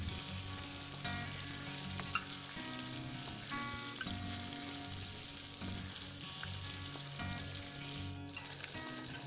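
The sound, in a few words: catla fish frying in oil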